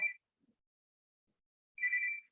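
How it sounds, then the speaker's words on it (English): A mobile phone rings in two short, faint electronic bursts separated by a long silence. "Sorry, my phone's ringing."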